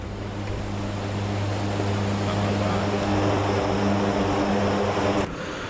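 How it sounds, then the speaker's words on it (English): Propeller engines of a C-130J Hercules transport aircraft drone steadily from inside the cabin during flight, a loud constant roar with low tonal hum that cuts off abruptly near the end. "We're in a big old C-130 right now, delivering warehouse supplies to our front line."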